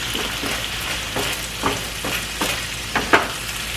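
Shrimp fried rice tossed and stirred in a hot pan, a steady close sizzle broken by several sharp scraping clatters of the utensil against the pan.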